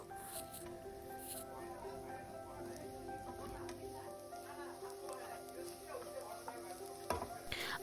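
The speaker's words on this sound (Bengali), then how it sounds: "আমার আলু আর লাউয়ের খোসা ভাজাও অলমোস্ট কমপ্লিট" Potato and bottle gourd peel frying in a pan, a quiet steady sizzle with faint stirring, heard close under a low background hum.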